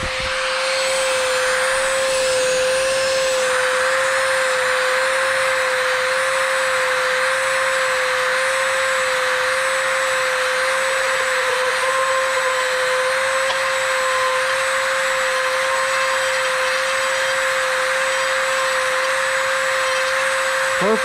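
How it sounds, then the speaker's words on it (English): A Dremel rotary tool held at very high speed on fiberglass parts for an Align T-Rex 300X helicopter, a steady loud high-pitched whine with a constant tone running unbroken throughout, no talking. "Get out our Dremel. So I find with fiberglass, you know, what I like to do is just run it really, really high speed."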